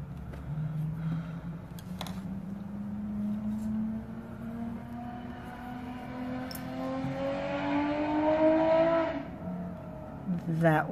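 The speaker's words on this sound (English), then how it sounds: "That was a motorcycle on the freeway." A motorcycle passes on a nearby freeway: a faint, distant engine drone rises steadily in pitch and swells over about ten seconds before dropping away, with quiet talk in the foreground.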